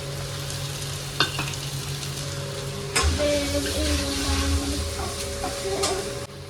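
Onion frying with ginger and garlic in a pan, giving a steady close sizzle with stirring scrapes and a sharp utensil clatter partway through, after which the hiss grows fuller. Nobody speaks.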